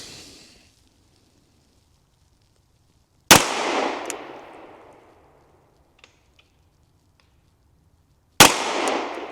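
Two sharp pistol shots from a Canik Mete SFT at a shooting range, each a loud crack with a decaying ringing tail, spaced about five seconds apart, with faint clicks between.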